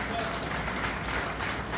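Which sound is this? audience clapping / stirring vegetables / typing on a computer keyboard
audience clapping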